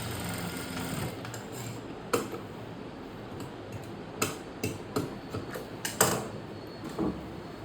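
A sewing machine stitches an Anarkali dress in short bursts of rapid clattering, separated by quieter pauses and a few sharp mechanical clicks, close up with no voices.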